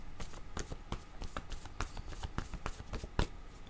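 A deck of tarot cards is shuffled for a reading, with soft, rapid flicks and riffles continuing for a few seconds at close, quiet range, without talking.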